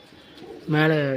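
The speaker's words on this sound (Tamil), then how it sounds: "புறா" A pigeon at a home pigeon loft gives a short, close, rising coo near the end, following faint background sounds and voices.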